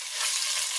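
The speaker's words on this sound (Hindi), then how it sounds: "थोड़ा सा इसको गर्म करके चिकन डालूंगी। चिकन को मैंने क्यूब में काटा है" Cubed chicken frying in hot oil gives off a steady, broad sizzle that swells slightly and holds even and close throughout, with no voices.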